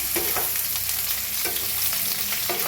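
Okra and potatoes roasting in generous oil in an open pan, a loud, close, steady sizzle broken by a few scraping stirs of a spatula, no voices.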